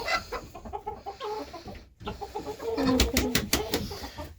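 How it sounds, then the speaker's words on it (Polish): Chickens clucking and squawking close by, with a rooster's agitated calls after dust-bathing in diatomaceous earth, and some wing flapping, rising in intensity toward the end. "Tu kogut się wkurzył."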